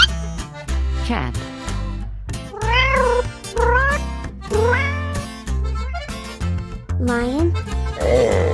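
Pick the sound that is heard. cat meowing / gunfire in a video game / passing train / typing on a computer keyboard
cat meowing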